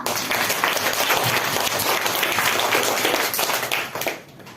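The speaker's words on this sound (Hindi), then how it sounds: "एक बार जोरदार तालियों से स्वागत कीजिए" Audience applause in a school classroom welcoming two student performers before an advertisement presentation: dense, steady clapping for about four seconds, then quickly tapering off at the end.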